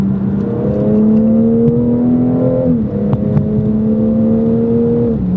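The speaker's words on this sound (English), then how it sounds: "Second gear, lots of pops and bangs." A BMW M240i pulls hard in second gear. Its engine drones loud and close and steady, dips briefly partway through, and throws out a few sharp exhaust pops before resuming its strong, even note.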